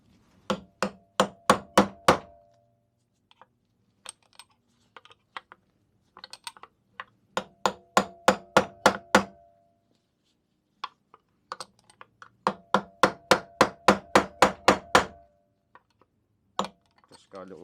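Metal-on-metal tapping knocks a drive pulley off a 1953 Mobylette AV33 moped over a socket, struck with a blunt tool in three quick rapid bursts of about eight to ten sharp hits each, with a few scattered single taps between bursts.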